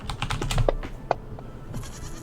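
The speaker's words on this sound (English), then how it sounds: "The goat sounds really messing me up." A goat bleats several times in short wavering cries at moderate distance, with some scattered tapping and clatter around it.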